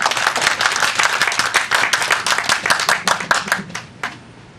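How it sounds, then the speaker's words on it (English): Applause from a Toastmasters club audience, dense overlapping claps at a steady level that thin out and taper off toward the end. "Round of applause, please."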